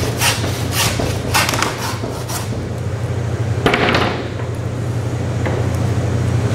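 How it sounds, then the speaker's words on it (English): A handsaw fitted with a thick beef-splitting blade cuts through a beef carcass during butchering, with loud rasping strokes early on over a steady background hum. "That is a nice handsaw. I've never seen a blade that thick on one. It's a beef splitting blade."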